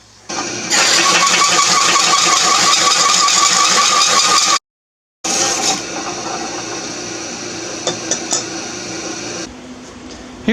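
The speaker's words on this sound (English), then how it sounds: "I've got my hole saw. Let's get to cutting." Hole saw cutting metal for a homemade exhaust cutout on a V8 S-10 truck: a loud, steady, close grinding whine, a brief stop, then more cutting with occasional sharp scrapes, no voices.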